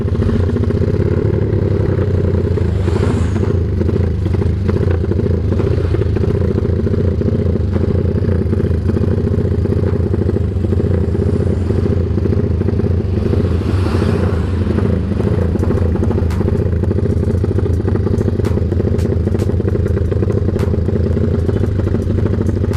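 A loud Honda Tiger motorcycle engine with an aftermarket hexagonal exhaust rumbles and idles steadily throughout with a deep, throaty exhaust note, occasional surges and clattering traffic noise around it.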